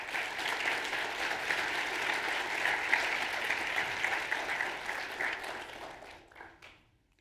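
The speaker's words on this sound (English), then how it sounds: "give those people a round of applause as well" An audience at a National Technical Honor Society induction ceremony for health careers applauds steadily, a broad wash of many hands clapping at moderate distance that holds for about six seconds before fading to quiet.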